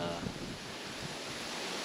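Wind rushes steadily past the microphone in a broad, low roar, with no other distinct sounds.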